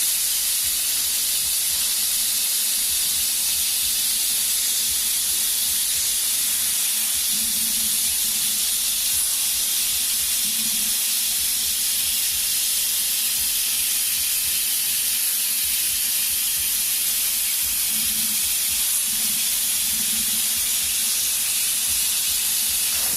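An airbrush sprays black paint along the very edge of a stencil mask, giving a steady, close, continuous airy hiss that runs alone for over twenty seconds with no pauses.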